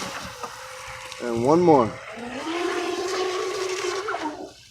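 A Pro Boat Recoil 26 RC boat on a 4S lipo runs at full throttle on open water, its electric motor a high whine that sweeps up and down in pitch over splashing, with a brief spoken line.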